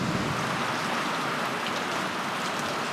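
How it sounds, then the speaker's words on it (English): Heavy rain pours down outside a tiny house in the woods, a dense, steady hiss of drops on surfaces that stays loud and unbroken throughout, with no voices. "It's really coming down now, the rain."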